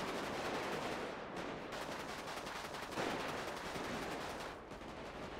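Gunfire in the GTA V video game, heard as a dense, continuous barrage of shots that rattles on without pause across the whole stretch.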